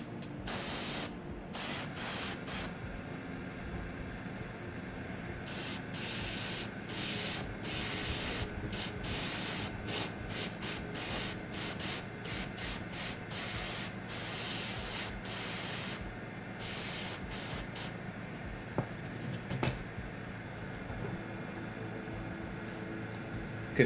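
An airbrush sprays cleaner through its nozzle in a loud, steady hiss, broken into repeated bursts with short gaps as the trigger is pressed and released.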